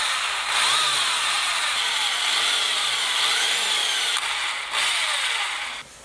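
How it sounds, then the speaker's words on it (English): Power drill boring holes for line ties into a handmade wooden fishing lure, a loud high whine with the motor rising and falling in pitch across several short bursts. "I am ready to drill the holes for the line ties."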